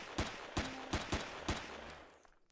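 Gunfire in Empyrion Galactic Survival, five sharp, evenly spaced shots in quick succession, loud and close, with the last fading into quiet.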